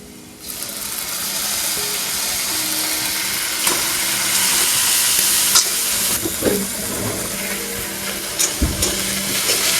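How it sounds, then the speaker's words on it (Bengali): Ginger-garlic paste frying in a pan for fish curry gives a loud, steady sizzle and hiss, close up, with a few clinks and stirs toward the end and no voices. "দিয়ে দেবো আদা রসুনের পেস্ট।"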